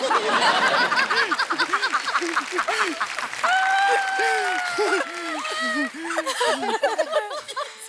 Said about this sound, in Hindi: दिव्यांका त्रिपाठी, उर्वशी ढोलकिया और अनीता डॉट हसनंदानी के लिए जोरदार तालियां हो जाएं।